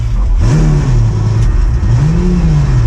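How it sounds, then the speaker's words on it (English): A Lamborghini engine revs up twice, each throttle blip rising in pitch and falling back, a deep, loud, close mechanical roar with steady idle rumble beneath. "Let me show you guys what I mean by grunt."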